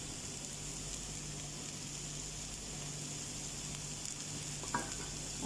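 Hakka noodles and spring onions are stir-fried in a pan, giving a constant soft sizzle and faint utensil scraping, with one brief clink near the end and no talk.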